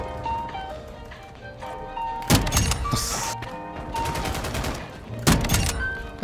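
Sniper rifle shots in a first-person shooter video game, two sharp loud blasts a few seconds apart over a busy game soundtrack of tones and effects.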